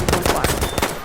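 Pistol fire in Battlefield 5, a quick burst of four or five sharp, close shots in rapid succession within about a second, with no talk over it.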